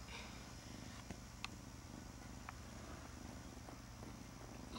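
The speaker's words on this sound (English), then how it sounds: "You're purring so loud." A cat purrs close to the microphone in a soft, continuous rhythmic rumble, with a few faint clicks and rustles in the background.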